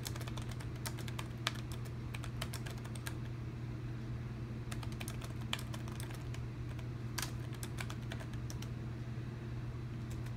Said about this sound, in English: And do a typing test.